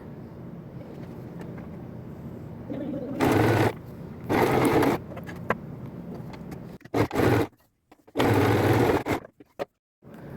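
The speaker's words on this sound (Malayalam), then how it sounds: "ഈ വരച്ച ലൈനിൽ കൂടെ സ്റ്റിച്ച് ചെയ്ത് കൊടുക്കുക" Sewing machine stitching a tuck along a drawn line on folded fabric: several loud, steady whirring bursts of a few seconds each, separated by pauses, with a faint background hum between runs.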